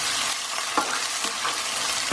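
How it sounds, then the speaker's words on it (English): Tomatoes frying in a pan for a chicken kofta curry, stirred with a spoon; a steady close sizzle with soft scraping strokes at intervals and no talking. "I'm going to add my tomatoes. I'm just going to mix this till it softens a little bit."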